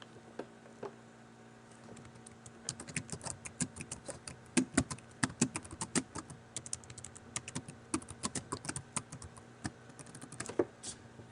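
Quiet tapping on a computer keyboard as a note is typed, a loose run of soft key clicks in irregular bursts over a low background hum, with no talking.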